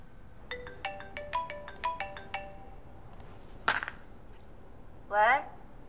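A phone ringtone chimes in a steady pattern of short repeated tones, followed by a brief clatter and a voice at the end.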